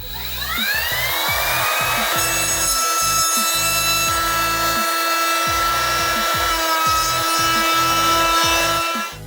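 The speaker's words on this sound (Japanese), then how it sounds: "なので集塵器なしでこのまま削っていきます。" A cordless power tool shaves solid wood with no dust collector attached. It gives a loud, continuous whining grind that rises and falls with the cuts, close and alone, with no speech.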